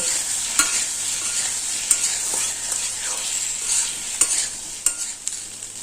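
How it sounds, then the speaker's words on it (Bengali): Taro roots fry in a little oil with turmeric over a medium flame, a bright steady sizzle broken by sharp clacks of a spatula stirring and scraping the pan at irregular intervals. "গ্যাসের ফ্লেম মিডিয়ামে রেখে গাটি কচুগুলোকে হালকা লাল লাল করে ভেজে নেব।"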